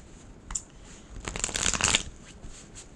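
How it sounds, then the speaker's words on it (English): A deck of tarot cards is shuffled close up. A single flick is followed by a dense riffling burst lasting about half a second, with no talking. "One more shuffle."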